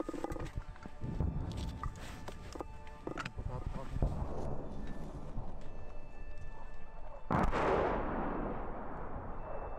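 Artillery firing near the Bakhmut trenches, with several sharp distant shots early on and a louder blast near seven seconds, set against faint background noise.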